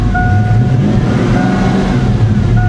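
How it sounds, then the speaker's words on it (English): Ford Mustang GT V8 with severe misfires, idling roughly and loud up close in a steady uneven rumble, with a faint whine above it; no talking. "Let's give her a little rev. See? You see how it just cuts out like crazy?"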